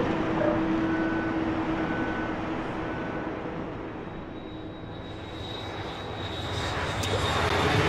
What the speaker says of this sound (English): Oh, here comes the plane.